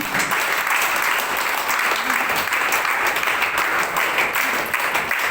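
A crowd claps hard to welcome a guest onto the stage at a company event, dense and loud applause that runs evenly for over five seconds.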